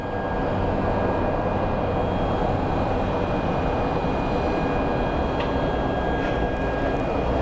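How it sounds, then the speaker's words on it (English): A United Express Embraer regional jet taxis for takeoff at Phoenix Sky Harbor International Airport, its engines making a steady, loud, broadband roar and whine that holds throughout with no talk over it. "There's actually United Express Embraer coming through, which I kind of want to catch."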